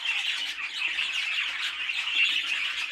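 Pet birds, two hens, squawking restlessly inside a show cage in a bird shed, harsh repeated calls close by and fairly loud, continuing without pause and with no talk over them.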